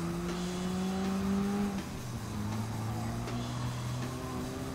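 A car engine in a racing video game holds a steady droning pitch in one gear, then drops lower at a gear change and keeps pulling with a continuous buzzing tone.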